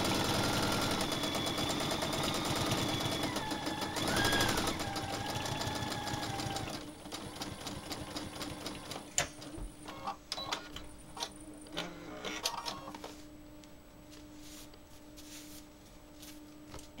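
A sewing machine stitches a baby quilt appliqué, its fast, even mechanical whir running close and steady before giving way to slower, intermittent stitching with scattered clicks and taps.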